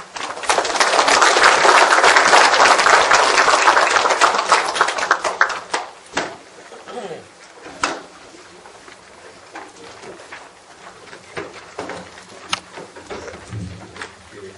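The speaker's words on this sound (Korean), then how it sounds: "박명수 교수님을 큰 박수로 환영해 주시기 바랍니다." Audience applause welcoming a professor to the podium before a lecture on the 120th anniversary of the Donghak Revolution, a loud dense burst for several seconds that fades into scattered claps and room noise.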